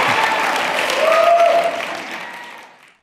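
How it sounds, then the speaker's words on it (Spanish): Audience applause at a live debate between pastors, a dense, even wash of many hands clapping that holds steady and then fades away to silence near the end. "Apláudame cuando quieran."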